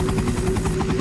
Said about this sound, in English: Then helicopter pilot Brad Vickers flies off.